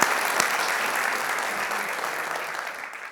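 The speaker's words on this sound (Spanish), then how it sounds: "la gran Patricia Chinchilla, el aplauso es merecido para ella" An audience at a book presentation claps steadily, a dense, even wash of applause that tapers slightly toward the end.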